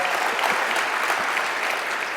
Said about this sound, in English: Y'all are clapping.